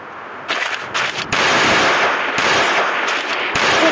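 Loud bursts of rapid automatic gunfire in the video game Free Fire, a couple of short volleys followed by longer sustained fire, close and harsh.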